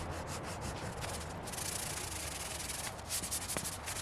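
Steady abrasive sanding scrapes paint off the metal frame of an old go-kart, a continuous close rubbing that rises slightly in intensity partway through.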